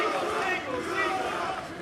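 An arena crowd at Bellator 290 roars and chants in support of fighter Yusuf Karakaya, a dense, sustained wall of voices.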